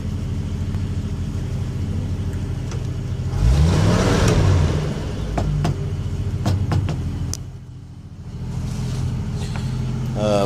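A 1971 postal jeep's straight-six engine runs at steady idle, then revs up briefly and settles back, a mid-pitched rumble close by with a dip near the end and no talking.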